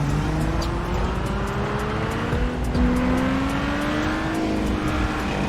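A car engine revs up with a steadily climbing pitch, a strong continuous roar with a brief hint of tire squeal, heard close and without speech.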